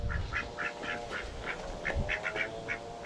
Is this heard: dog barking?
no